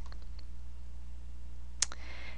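A computer mouse gives a few faint clicks at the start, then one crisp, distinct click near the end, each sitting over a steady low electrical hum in a quiet room.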